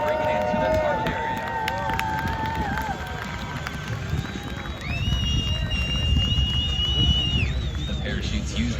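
Outdoor crowd at the Cleveland National Airshow cheering as parachute jumpers come into the target area, a broad swell of voices and shouts that grows louder midway, with whistles and scattered talk.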